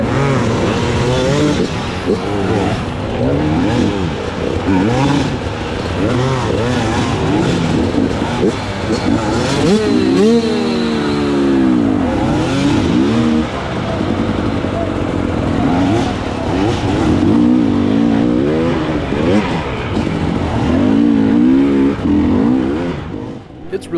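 An off-road vehicle at the Battle of the Prospectors 2025 revs hard while its clutch is slipped for traction, the engine note rising and falling in loud, continuous surges with voices now and then.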